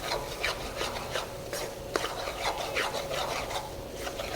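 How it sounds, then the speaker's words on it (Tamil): Masala spice mix with green chillies and salt being sautéed and stirred in a pan for mutton chukka, a steady dry scraping and rubbing texture with repeated spoon strokes, close and continuous. "இந்த மசாலா கலவையை நல்லா பொடி வாதனை போக வர நல்லா வதக்கணும்."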